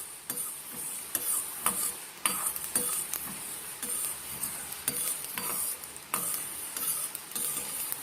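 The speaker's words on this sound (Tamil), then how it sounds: "வெந்தயத்தையும் நல்லா வந்து வறுத்துக்கணும்" Fenugreek seeds dry-roasting in a pan for a citron pickle, giving a soft continuous sizzle broken by frequent light scraping and clinking strokes of a spoon stirring, close and unaccompanied by speech.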